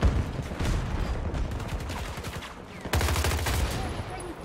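Bursts of rapid automatic gunfire from an AI soldier in Battlefield 2042 crackle in close, loud volleys, one clear salvo near the end, with game ambience between shots.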